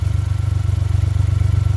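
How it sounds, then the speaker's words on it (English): Engine of a Suzuki Every DA52V van idling with a cracked, broken exhaust, giving a loud, steady low throb with a rapid pulsing rattle of vibration close by, no voices. "Oh, it's vibrating so much. See that crack? It's actually, the exhaust is broken."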